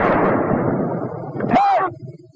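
A 37 mm gun fires at a concrete target during a 1943 infantry weapons test, one sharp close blast with a quick decaying ring after a stretch of noisy, muffled old-film sound.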